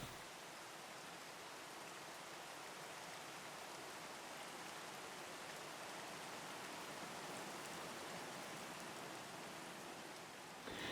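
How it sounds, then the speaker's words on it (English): Light rain falls on an overcast day in the Montana backcountry, a soft, steady hiss of drops that stays faint and even throughout, with no voices. "It's like light rain."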